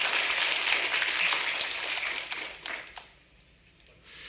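A church congregation bursts into applause during a Sunday service. The clapping is loud and dense at first, then thins out and stops after about three seconds, and a little faint noise follows.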